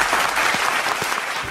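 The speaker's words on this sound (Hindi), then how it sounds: "फर्स्ट ऑफ ऑल तालियां सबके लिए।" A small group applauds contestants at a paneer cooking contest, a dense continuous patter of clapping close by.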